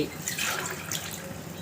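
Water is poured from a glass into a pot of soaked rice for mutton biryani, a short, close splashing gush that fades after a second.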